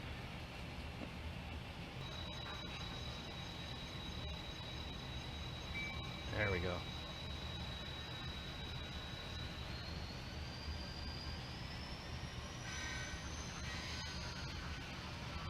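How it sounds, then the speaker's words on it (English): Kato N scale model trains run around a home layout, producing a low continuous rolling rumble with a faint high whine that slowly rises, plus a brief squeal midway; someone speaks briefly. "Let me get some trains going here."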